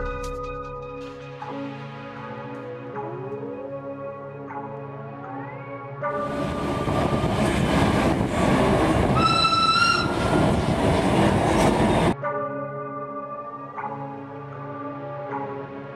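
A Swiss mountain train climbing toward the Jungfrau below the Eiger's north face, a steady rolling rumble with tonal mechanical whine and a louder, noisier stretch midway carrying high whistle-like tones, no talk.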